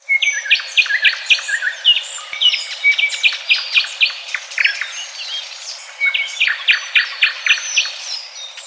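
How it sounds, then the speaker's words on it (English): A nightingale sings alone in a rapid series of clear chirps, trills and whistled phrases, with short pauses between bursts. "Nightingales, sing, sing."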